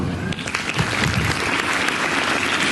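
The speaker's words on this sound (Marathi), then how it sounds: "त्यासाठी आपण सगळेजण एकदा टाळ्या वाजवू" An audience at a school gathering claps together in a dense, even burst of applause that holds steadily for the whole stretch, loud and close, with no voices rising above it.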